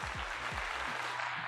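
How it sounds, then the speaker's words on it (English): Brief burst of steady audience applause on a podcast set, filling the moment evenly with a low voice murmuring underneath. "Another round of applause for that."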